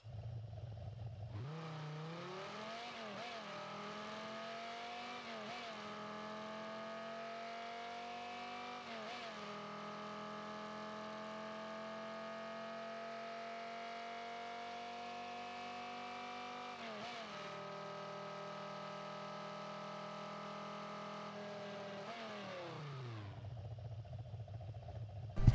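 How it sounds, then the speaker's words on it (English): A Batmobile engine in a video game revs steadily, its pitch climbing and shifting through gears over a long sustained drone, with no talking. "And this is what the engine sounds like."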